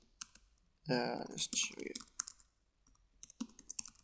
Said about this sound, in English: I'm way quicker at typing on a laptop keyboard than a Mac one